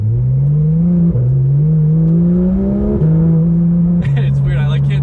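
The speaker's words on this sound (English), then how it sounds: "I can't talk over the exhaust note, I need to just cherish it" Porsche GT3 RS exhaust droning steadily while driving, its pitch climbing through the gears with shifts near one, three and four seconds, loud and close throughout.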